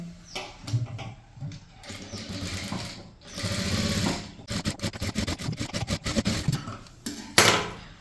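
A sewing machine stitching a chudithar top runs in bursts, with a fast, even mechanical chatter that stops and starts, sounding close and clear.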